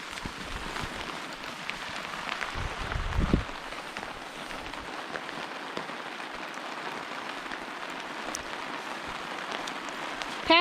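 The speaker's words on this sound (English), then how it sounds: "It's coming down. Oh my gosh. Still is beautiful though, even though it's raining." Steady rain patters on a tent and campsite on a rainy Labor Day camping trip, a constant dense hiss with one brief heavier rumble partway through and no voices.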